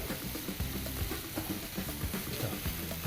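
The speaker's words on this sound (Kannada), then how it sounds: "ಎಲ್ಲವನ್ನು ಚೆನ್ನಾಗಿ ಫ್ರೈ ಮಾಡ್ಕೊಳ್ತಾ ಇದ್ದೀವಿ" Onions and spices with dill and coriander leaves frying in a pan for an egg boti fry: a dense, crackling sizzle broken by repeated scraping stirs at close range, with no speech.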